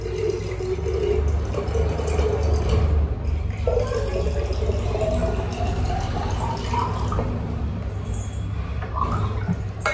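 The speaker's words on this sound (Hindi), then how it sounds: "तो पानी मैंने भर लिया है" Tap water running steadily into a container in a home kitchen, a continuous watery fill with faint dripping over a low background hum, fairly close.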